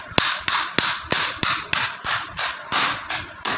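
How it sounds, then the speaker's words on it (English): A real hammer pounds repeatedly during a child's fine-motor activity, about a dozen sharp, evenly spaced blows in a steady rhythm, each strike close and clear with a short ring. "This is the real hammer which we are using here"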